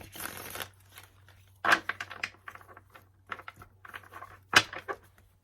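Tarot cards are shuffled in quick riffling bursts with soft taps and shuffles between them, close and fairly quiet.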